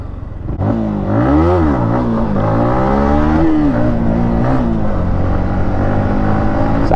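A Yamaha MT15 motorcycle revs loudly and close by during a wheelie, its engine pitch sweeping up and down through several throttle blips before holding a sustained high roar.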